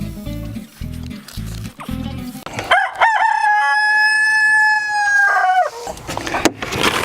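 A backyard rooster in an automated chicken coop crows one long, loud, close call after some rustling and low clucks.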